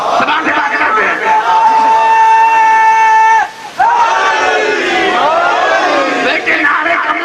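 A majlis audience loudly chants religious slogans in unison, sustained tonal shouts from many voices, briefly breaking before resuming as a swelling crowd cry.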